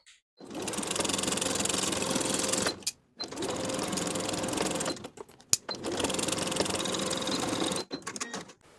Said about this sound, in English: sew this previously basted seam from one side to the other, now with a 1/2 inch seam allowance